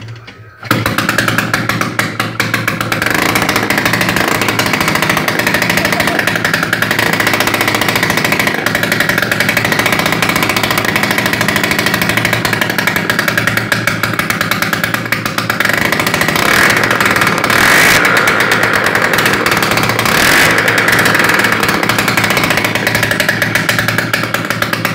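A WSK M06B1 motorcycle's two-stroke engine fires up for the first time after an overhaul, a loud, harsh, continuous buzzing rattle that runs unbroken close to the microphone after a brief start.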